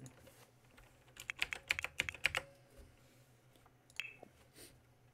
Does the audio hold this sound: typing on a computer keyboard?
yes